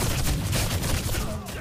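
Rapid gunfire rakes a ship in the video game ATLAS: a loud, dense, continuous burst of overlapping shots with no gaps, close and harsh.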